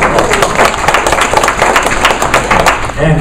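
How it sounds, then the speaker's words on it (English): Audience applause at a senior living talk for veterans, loud and dense clapping filling the room with a steady texture, with talk over it. "We just give them a round of applause for"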